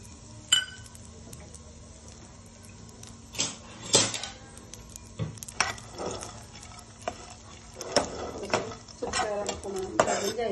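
Cashews and almonds are stirred in a little ghee in a pan, with sharp, scattered clinks and scrapes of a utensil against the metal and only a faint sizzle, close and sparse.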